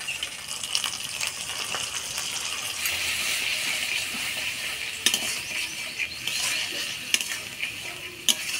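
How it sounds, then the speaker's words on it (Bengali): Beaten sour yogurt goes into a pan of spiced oil and cashew paste for a prawn curry on low heat, a soft continuous sizzle under stirring with a few sharp clinks of a spoon against the pan. "এবার দিয়ে দেব ফেটে রাখা টক দই।"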